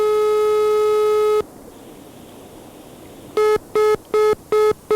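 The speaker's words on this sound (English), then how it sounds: "This is the sound it makes when you call Spain." A telephone line tone heard when calling Spain: a long steady electronic beep, a short pause, then a fast series of clipped repeating beeps, loud and clean with no talk.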